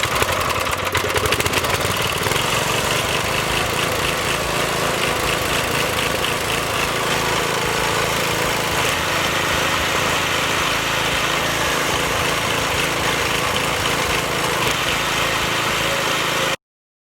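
A small gasoline weed eater engine runs steadily after starting, a loud, buzzing mid-pitched drone that holds close and constant with no talking.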